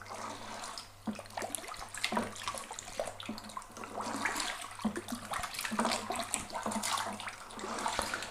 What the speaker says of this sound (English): with my sterilized spoon, I'm going to give that a good stir